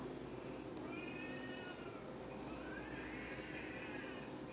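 A Halloween decoration on a store shelf lets out a faint electronic cat meow, quiet and brief against a steady background hum of the shop.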